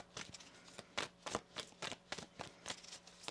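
Tarot cards riffle and snap in a quick, uneven rhythm of about a dozen crisp bursts, close and fairly quiet, with no talking.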